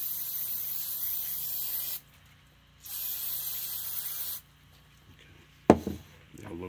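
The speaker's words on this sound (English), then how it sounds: "Spray them off once you're done brushing on them." Brake cleaner is sprayed onto Dodge Charger front brake rotors in two long, close hissing bursts, followed by a brief metallic clatter.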